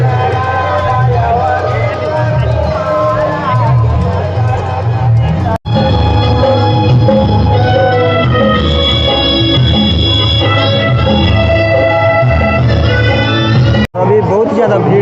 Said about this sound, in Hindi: अभी बहुत ही ज़्यादा भीड़ है यहाँ।